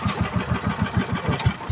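A small fishing boat's engine runs at sea, giving a steady, low, rhythmic thumping at an idle-like pace, close and continuous, with no voices.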